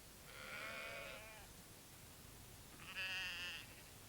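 Two separate sheep bleats, each a wavering, drawn-out call lasting about a second, with a quiet pause between them.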